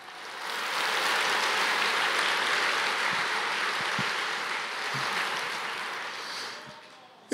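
A church congregation applauds together, a dense steady wash of handclaps that swells early and holds for several seconds before tapering off, with faint voices mixed underneath.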